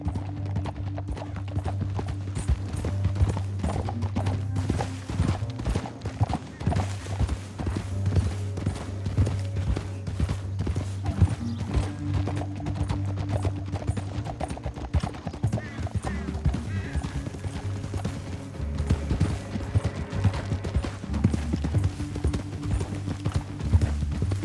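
Horse hooves gallop continuously in the video game Red Dead Redemption 2. The clip-clop pounding runs steadily for the whole stretch over a low, droning music bed, and the horse occasionally snorts.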